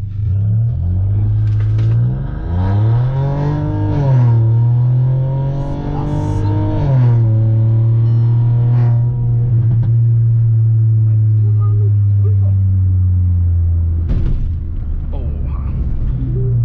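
A Volkswagen Polo Highline Stage 3 with traction control off roars loudly up close in a launch start, revving hard through rising gear pulls before settling into a long, heavy rumble.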